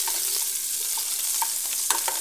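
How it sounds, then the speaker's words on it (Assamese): Chopped onions fry lightly in hot oil with garlic and a bay leaf for a fish curry, giving a steady sizzling hiss with scattered small crackles and pops, close and fairly quiet, with no talking. "পিঁয়াজবোৰ অলপ ভাজিম, সম্পূৰ্ণ ৰঙা হ'বলৈ নিদিওঁ"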